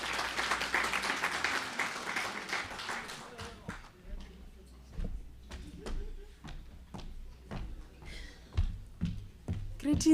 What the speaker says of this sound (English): A big round of applause to Me Sefotlelo.